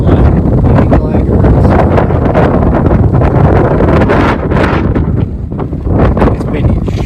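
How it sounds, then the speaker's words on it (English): Strong wind on a mountain top buffets the microphone in loud, rough gusts throughout, with no pause. "It's windy as shit up here on this mountain."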